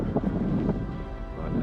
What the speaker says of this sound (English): It is windy and it is cold.